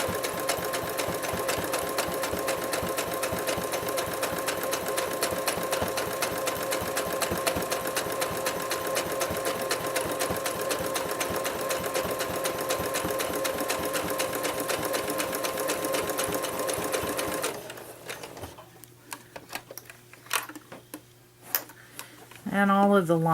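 A sewing machine stitches through a fabric potholder, its needle running in a steady, rapid, close-up chatter for most of the clip before stopping abruptly, leaving quieter handling noises and a faint hum.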